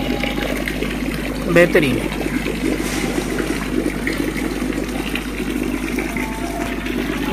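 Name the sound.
aerated water making waves in biofloc fish tank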